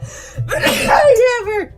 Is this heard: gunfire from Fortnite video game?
no